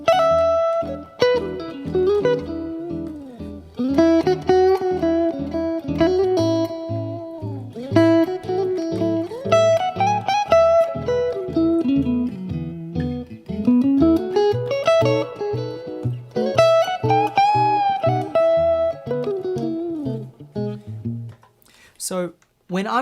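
An electric guitar plays a major pentatonic scale in a blues manner, with singing sustained notes and bends. The melodic line is continuous and fairly loud, played alone.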